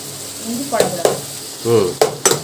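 Garlic and onion sautéing in sesame oil for a stingray fish curry, a quiet sizzle broken by several sharp scraping clinks of stirring, up close.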